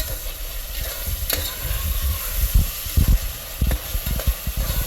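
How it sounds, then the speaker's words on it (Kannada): Onion rice fries in a pan with a soft sizzle, while the spoon scrapes and knocks against the pan in irregular low thuds. "ಆನಿಯನ್ ರೈಸ್ ಚೆನ್ನಾಗಿ ಫ್ರೈ ಆಗಲಿ ಇದು"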